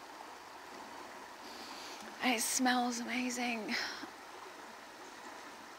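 A clear stream flows over rocks with a steady, soft rushing wash throughout, while a person speaks briefly over it midway.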